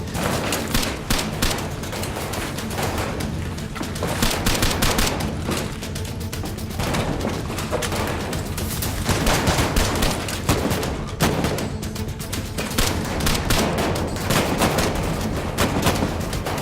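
Heavy gunfire as a military unit comes under enemy fire: a loud, continuous barrage of overlapping rifle and machine-gun bursts with booming reports, dense and close throughout.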